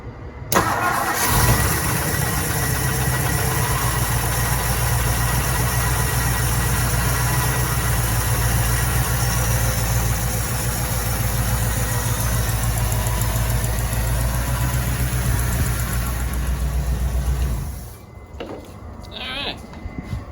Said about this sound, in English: Let's see what happens when I hit the key, and we'll see if we can get some fuel up to it